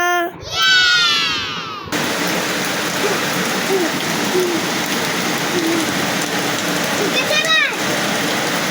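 Steady rain pours down in a dense hiss, with a child's high cries briefly at the start and near the end and faint voices underneath.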